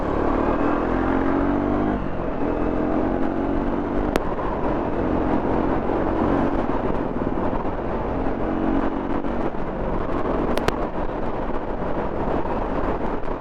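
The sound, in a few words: Triumph Speed 400 motorcycle accelerating on throttle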